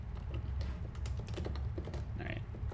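Quick computer keyboard keystrokes, a scattered series of light clicks including a Control S save shortcut, fairly faint and close with no talking.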